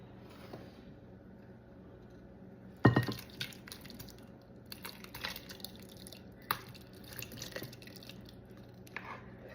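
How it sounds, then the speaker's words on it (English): Thick pasta sauce spills and plops into cooked pasta, starting with a wet splat and followed by irregular squishy drips and soft clinks, close and moderately quiet, with no talking. "it is time to throw in our pasta sauce into our pasta"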